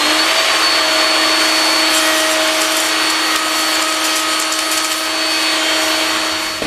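A router fitted with a drawer corner lock cutter makes a test cut in scrap board, a loud continuous high whine that holds steady for several seconds with no talk.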